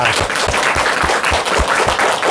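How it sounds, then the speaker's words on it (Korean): An audience claps steadily at a talk introducing a study school. The dense, even applause holds at a constant level for the whole stretch, with soft low thumps running beneath it. "큰 박수 부탁드립니다."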